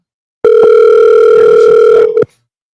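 A telephone sounds for an incoming call as one loud, steady electronic tone that lasts nearly two seconds and then stops abruptly, with no talk over it.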